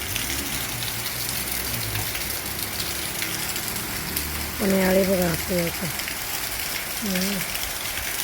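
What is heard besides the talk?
rain falling on a farm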